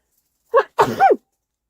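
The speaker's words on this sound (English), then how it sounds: "Good sneeze." A single close sneeze: a short sharp intake followed by a loud, explosive burst, then quiet.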